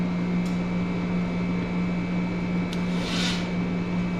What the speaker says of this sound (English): The motor definitely runs.